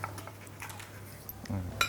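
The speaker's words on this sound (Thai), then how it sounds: "ผมจะมาหั่นเป็น ชิ้นสี่เหลี่ยมก่อนนะครับ" A knife cuts crisp toasted bread into cubes, giving a few quiet taps and scrapes against the board, with a faint voice in the background.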